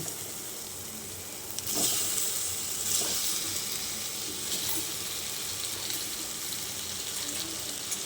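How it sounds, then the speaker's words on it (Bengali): Boiled pasta dropping into a hot pan of spiced mixture, a steady loud hiss and sizzle with a brief clattering surge as it lands, close and without speech. "এবার আমি সেদ্ধ করে রাখা পাস্তাগুলো দিয়ে দিচ্ছি"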